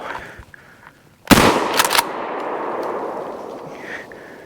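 Single sharp gunshot during a public land squirrel hunt in Mississippi, a loud crack after quiet woods, followed by a rolling echo that fades slowly.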